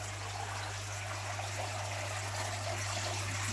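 Water from a koi pond pump flows through two filters and a shower unit, a faint steady trickle and splash over a constant low electrical hum.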